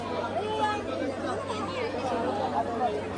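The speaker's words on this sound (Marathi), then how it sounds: "गर्दी भरपूर आहे." Dense crowd of devotees chattering at Tuljapur temple, a steady wash of overlapping voices close by with no single speaker standing out.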